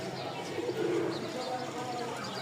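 Rajshahi Giribaz pigeons coo, with one low, throaty coo swelling near the middle over steady background noise.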